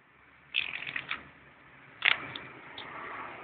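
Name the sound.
shuffling playing cards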